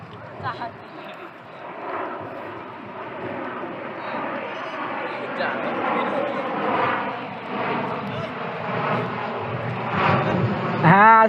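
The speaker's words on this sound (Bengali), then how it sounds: "যাচ্ছে আকাশ দিয়ে জাহাজ উঠে যাচ্ছে" An airplane drones overhead above a Padma River sandbank, a steady broad engine roar that swells and fades across the stretch, with people talking underneath.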